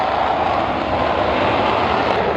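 Jet fighter engines roar steadily and loudly in a Folland Gnat pursuing F-86 Sabres during a dogfight, a dense, continuous rushing roar with no break and no voices.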